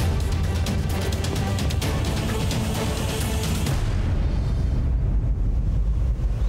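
Cartoon firecrackers conjured by a magic spell, a loud, dense roar of crackling bursts and rumbling booms that fills the first few seconds, then gives way to a deep lingering rumble.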